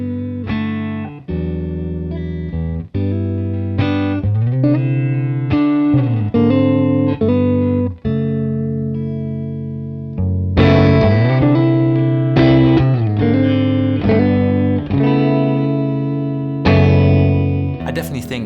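A budget electric guitar under $250, played through its neck pickup, rings out a sequence of sustained chords and notes with distortion and reverb, loud and continuous with brief gaps between changes.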